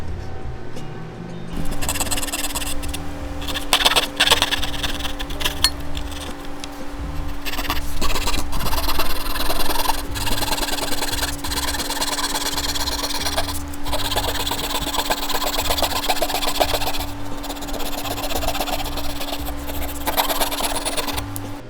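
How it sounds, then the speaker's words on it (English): A coping saw cuts a wooden crown molding by hand, a close, rhythmic rasping of back-and-forth strokes that runs steadily for about twenty seconds after a brief quiet start. "with a coping saw, like I have here, you want to trace that reveal that we just made on our miter saw"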